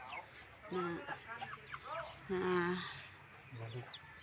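Several hens cluck and squawk in short bursts nearby, with quiet gaps between calls and faint background noise.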